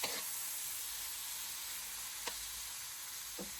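Spices and bay leaves sauté in hot oil for a Bisaya-style squid dish, making a faint, steady hiss of sizzling with a couple of soft stirring scrapes and no talking.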